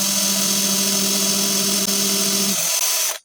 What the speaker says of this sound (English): I'm going to drill in a couple of holes